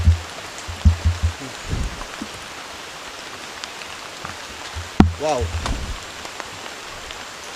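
Light drizzle patters steadily through a forest at night, a soft continuous hiss, while a person speaks briefly near the start and again midway.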